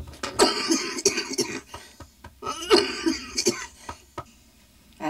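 Repeated harsh coughing from a man who has suffered a chronic cough for years, heard up close in a remote mountain house, with bursts clustered in fits and short pauses between them.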